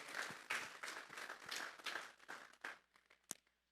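A church congregation claps together in several rhythmic bursts of applause, fairly loud and close, thinning out toward the end with a final sharp clap.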